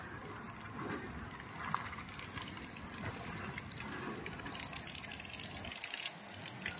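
Steady rain falls outside a vehicle on a wet road, a soft continuous hiss and patter at moderate distance with no speech over it.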